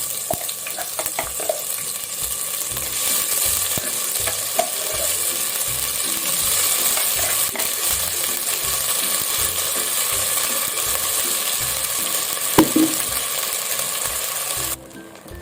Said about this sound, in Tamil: இப்போ இதை நல்லா வதக்குவோம், பச்சை ஸ்மெல் போகிற வரைக்கும்